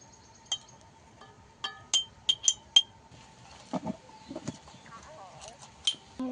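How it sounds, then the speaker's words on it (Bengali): Pieces of mango in oil go into a glass jar, producing scattered sharp clinks and soft wet thuds, close and fairly quiet. "এবার আমি বয়ামের মধ্যে দিয়ে দেব। প্রথমে আমগুলো দিয়ে দেব।"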